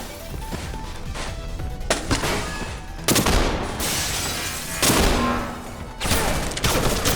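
Rapid gunfire in the video game Underhell with sharp bursts and crashing impacts, loud and dense, repeating in several volleys.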